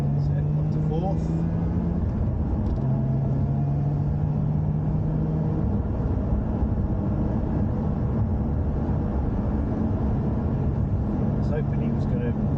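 Lotus Emira sports car driving laps of Thruxton race circuit, a steady engine drone with a rising tone as it revs, heard from inside the cabin under continuous talking.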